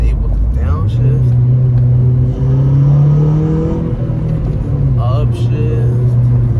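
A Honda Civic Si with an upgraded clutch master and slave cylinder, revving loud and close as the engine pitch climbs and drops through successive gear shifts, with someone talking over it.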